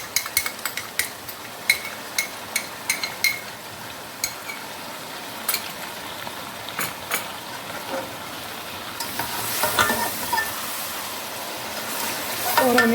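Chicken biryani masala with yogurt is stir-fried in a pot: a bright sizzle runs throughout, broken by repeated metallic spoon scrapes and clinks, and the frying grows louder and fuller toward the end.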